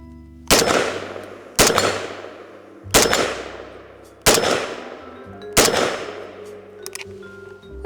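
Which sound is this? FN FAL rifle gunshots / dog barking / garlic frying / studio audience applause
FN FAL rifle gunshots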